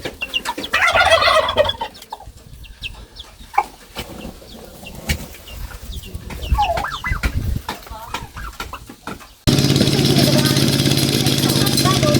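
Turkeys gobble and fowl call close by amid scattered talk and rustling, ending in a steady loud hum.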